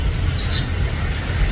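Birds call in a forest: a couple of brief, high chirps near the start, fairly faint and distant over steady rushing background noise, with no talking.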